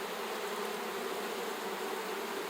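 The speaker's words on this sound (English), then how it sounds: "They have plenty of numbers and plenty of bees coming out" Steady, loud droning of many honey bees flying around an open hive, a continuous close buzz with no voices.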